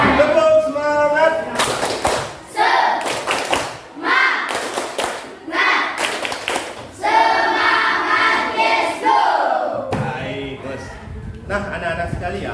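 A class of children performs a rhythmic spirit clap chant at school, with sharp bursts of clapping in patterned groups alternating with short spoken or chanted phrases, loud and close throughout.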